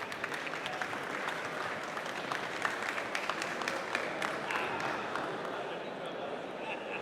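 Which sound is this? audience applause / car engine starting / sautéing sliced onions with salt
audience applause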